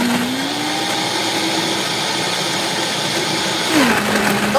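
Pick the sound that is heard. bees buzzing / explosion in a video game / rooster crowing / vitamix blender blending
vitamix blender blending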